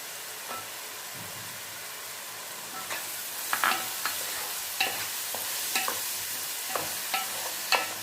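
Curry leaves frying in hot oil for a Nellore-style fish curry, giving a steady close sizzle that crackles and spits more sharply partway through, with scattered pops and a few stirring clicks and no talking.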